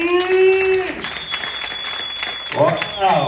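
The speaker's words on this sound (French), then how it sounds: "Est-ce qu'on peut applaudir pour le MC?" An audience applauds the MC at a business presentation, a soft steady patter of clapping running beneath a speaker's voice, which fades out and then returns.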